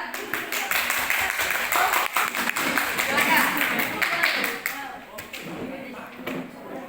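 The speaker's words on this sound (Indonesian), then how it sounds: "Kita beri tepuk tangan untuk kelompok 2." Classroom applause for a student group, a dense patter of clapping hands lasting several seconds before tapering off, with a teacher's voice briefly heard.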